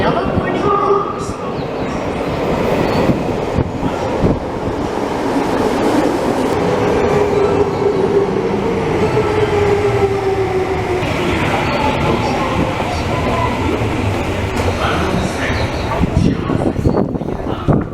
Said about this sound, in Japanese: Katadai is arriving at track 3.